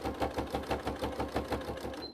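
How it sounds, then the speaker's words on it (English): A sewing machine stitches a bag in quick, even bursts of mechanical clatter, about eight regular pulses, close and fairly quiet, without speech. "do a couple of stitches and stitch down"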